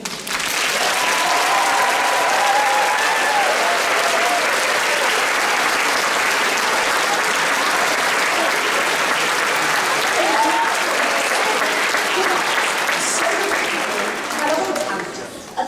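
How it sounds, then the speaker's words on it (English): A musical theatre audience bursts into loud, sustained applause with scattered cheers, a dense wall of clapping that stays strong for about fifteen seconds before easing slightly at the end. "give them an exuberant, enthusiastic round of applause"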